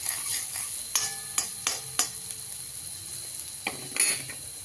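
Raw red chilies being sautéed in a pan for a fenugreek-leaf (methi) bhaji give a steady faint sizzle, punctuated by several sharp clicks and taps of a spatula against the pan.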